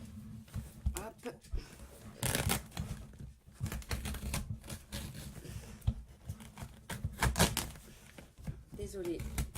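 Electrician's tape rips off a gift parcel in repeated sharp tearing bursts and crinkles, close and fairly loud, with quieter handling sounds between.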